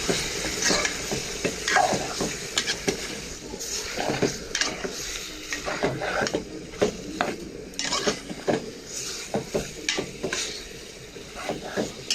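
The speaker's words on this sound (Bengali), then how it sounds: "আমি এখানে নুন হলুদ কিছুই দিব না, এমনি তেলে ভেজে নিব।" Chicken skin fries in plain oil with a constant sizzle and frequent clattering, scraping stirs of a spatula against the pan, loud and close throughout.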